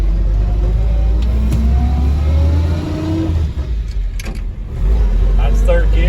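A 1949 Dodge truck engine driving in third gear, a loud steady low rumble heard from inside the cab with a brief easing near the middle before it pulls again, with someone speaking over it.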